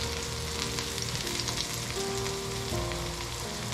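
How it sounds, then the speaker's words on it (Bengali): Garlic paste hits hot oil with frying onions, letting out a continuous dense sizzle, close and steady, crackling throughout with faint stirring scrapes. "এখন আমি এতে দিয়ে দিচ্ছি রসুনের পেস্ট।"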